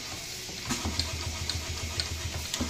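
A Case model steam tractor engine running on an air supply, a steady quiet chuffing pulse of regular low beats with light mechanical ticking, close by and without talk.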